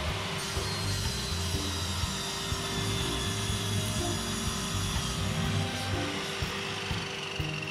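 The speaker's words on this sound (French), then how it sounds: "La découpe pour ce genre de choses, je le fais à la scie onglée." A miter saw cuts wood in a workshop, giving a steady, loud, continuous grinding whir that runs unbroken from start to finish, with no voices.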